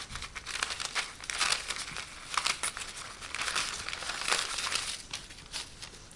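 Rice paper being torn and crinkled by hand, a steady run of dry papery rips and rustles close up with no talking.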